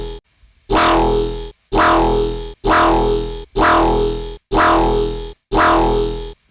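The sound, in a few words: subtle overdrive distortion effect on a synth sound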